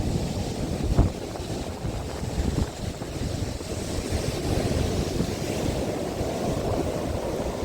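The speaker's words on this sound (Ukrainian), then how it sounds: "Ви що такі хвилі? Вони збивають, там неможливо встояти." Stormy sea waves surge and crash along the Odesa shore, a loud continuous roar mixed with gusty wind buffeting the microphone, with no voices.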